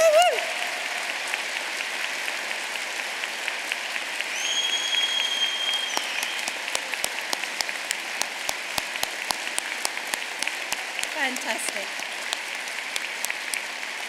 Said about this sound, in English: So one more huge round of applause.